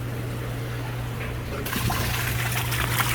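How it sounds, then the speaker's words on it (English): Water from a 600-gallon aquarium filter flows out during backwash, a steady close rushing trickle that turns louder and brighter halfway through, over a low pump hum. "water's coming out clear, but as time goes, you'll see how dirty it gets"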